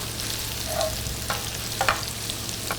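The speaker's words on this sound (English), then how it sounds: "I'm just making sure that the pasta is coated with the sauce" Tagliatelle pasta is stirred into a spicy sauce in a hot pan, a close, steady sizzle with a few soft scraping and clinking utensil sounds.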